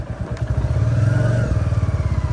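A motorcycle engine throbs with a steady, pulsing rumble as the bike rides along, close and fairly loud.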